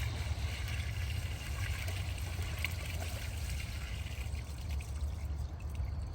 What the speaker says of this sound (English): And the liquid goes in.